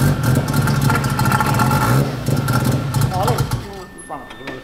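The bridgeported rotary engine of a red Mazda FD RX7 runs loud and close with a rough, buzzing, uneven idle, then cuts off, leaving voices talking over the quieter tail.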